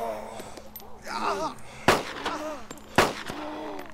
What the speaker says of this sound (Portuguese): quando a gente mira e atira no local, o tiro vai no local